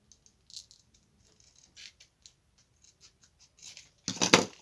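Scissors snip through paper for an Easter calendar in a series of quiet, irregular cuts, ending with a louder rustling burst close by, with no voices.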